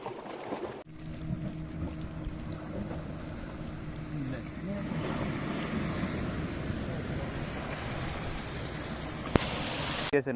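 Sea waves wash over rocks and shore at a beach near Chavakkad, a continuous surging roar with wind, heard from close by, with faint speech.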